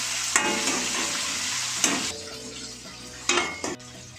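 Two onions sautéing in a hot pan for hotel-style rava kichadi, a steady close sizzle broken by a few sharp scrapes and clinks of a spoon stirring against the pan, with no talking.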